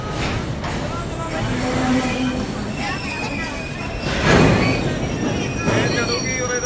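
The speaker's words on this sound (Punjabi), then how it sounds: "ਟ੍ਰੇਨ ਆਉਣੀ ਆ ਭਾਈ ਤਿਆਰ ਹੋ ਜਾਓ" A passenger train pulls into a railway station, its rumbling wheels and squealing metal growing louder and peaking midway, while people talk nearby throughout.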